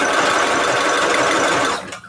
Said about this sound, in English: I'm just going to use a zigzag stitch here.